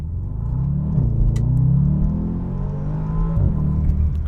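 A 2021 Bentley Continental GTC convertible with 540 horsepower accelerates, its engine giving a deep, smooth rumble that rises and falls in pitch as gears change, heard from inside the car with no talk.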